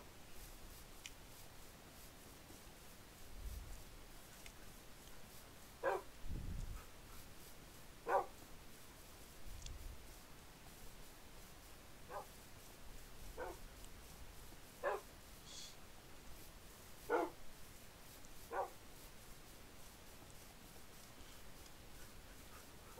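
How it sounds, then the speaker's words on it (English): Dogs in a hardcore survival video game bark sporadically, with several short, faint yips and barks spread over a quiet, steady background. "Oh my dogs, they're so cool."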